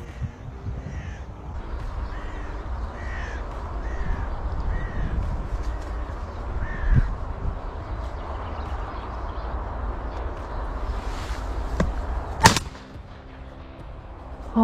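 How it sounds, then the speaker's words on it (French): Crows caw in short, repeated bursts across a morning field, called in during crow hunting to protect crops. Steady outdoor background noise runs underneath, and a single sharp, loud bang cuts through near the end. "La matinée continue et les corneilles continuent de venir."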